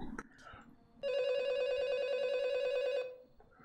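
A home telephone rings in the 2011 horror film Scream 4, a loud sustained electronic trill lasting about two seconds, with muffled talk before and after it.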